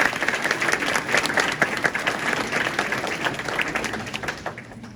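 An audience applauds Pastor Sarah after her speech, a dense, steady round of clapping from many hands that holds strong for most of the moment and then starts to thin and fade toward the end.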